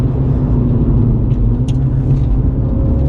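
A Mini Cooper F56 GP3 on a race track drives out of a corner under power, its engine a loud, steady low rumble with road and wind noise filling the whole stretch, close by and without pause.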